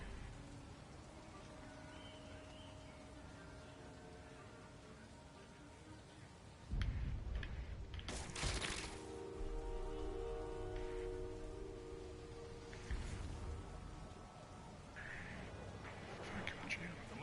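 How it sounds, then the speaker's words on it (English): Rain and weather effects in the Spider-Man PS4 video game, a steady wash of falling rain that grows louder partway through, with a few sharper bursts and someone talking over it. "with the rain and weather effects, that looks really fucking nice. I love the way that the rain looks on it."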